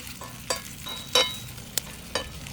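Potatoes fry in a pan over a rocket stove, giving a soft continuous sizzle broken by a few sharp scraping knocks as a knife tip stirs them, close and without talk.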